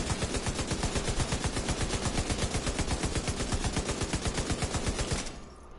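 Light machine gun in The Division 2 firing a long, rapid, evenly paced burst of loud close shots for about five seconds before stopping abruptly.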